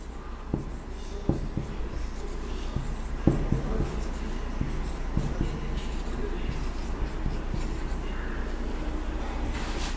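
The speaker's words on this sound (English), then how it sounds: "first I am going to write the questions alone" Pen scratching on paper while writing out multiplication questions, a steady close-up scratch with short taps and strokes running throughout, no talking.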